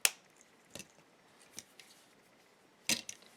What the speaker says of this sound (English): Cut it off here.